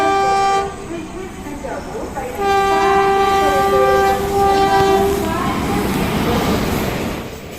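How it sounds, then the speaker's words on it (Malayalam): The Karaikal Express runs with a steady loud rumble of wheels and carriages, while a long tonal train horn sounds for several seconds in the middle before the noise continues. "ഞങ്ങൾ കാരക്കൽ എക്സ്പ്രസ്സിനാണ് അങ്കമാലിയിൽ നിന്ന് നാഗപട്ടണം വരെ പോയത്"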